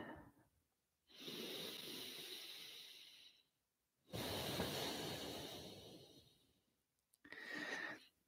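Slow, deep yoga breathing, with two long airy exhales of several seconds each and a shorter third breath, close and breathy with quiet pauses between them and no talking.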